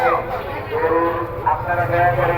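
Cattle low in long drawn moos at the crowded Dholaikhal cattle and goat market. Voices murmur beneath and alongside the animals' calls.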